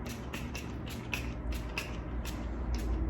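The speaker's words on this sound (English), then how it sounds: "I'm just gonna spray that kind of like all over" Mario Badescu facial water spray misted over a face in a series of short, close pump spritzes, about eight quick hissing bursts in an uneven rhythm.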